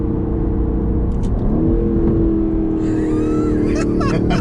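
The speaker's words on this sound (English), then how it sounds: "Listen to that idle. Much different." New Aston Martin Vantage engine idling with a deep, steady low rumble and a slight shift in pitch partway through, close and continuous, with brief chirps and a faint voice in the background near the end.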